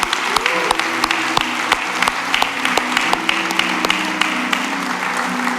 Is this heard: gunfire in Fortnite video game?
no